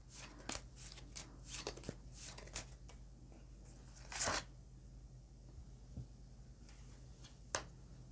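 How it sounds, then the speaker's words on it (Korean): Tarot cards are drawn from a deck in a quiet room, a run of soft, brief card flicks and shuffles in quick succession followed by a few isolated slides and taps, faint and close. "카드 2장만 더 뽑을게요"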